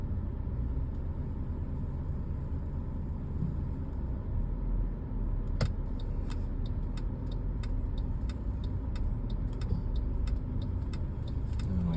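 A car drives through the Sun City community, a steady close engine and road rumble from inside, joined partway through by an evenly spaced ticking that keeps a regular beat to the end.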